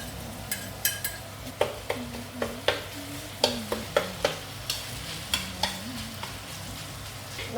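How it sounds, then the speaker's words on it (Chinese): Pork crackling and chili stir-fried in a wok for a petai and dried shrimp dish: a steady sizzle broken by repeated sharp metal spatula scrapes and clanks in a loose rhythm, close and clear with no talk. "你要肉脆要这样炒给它熟"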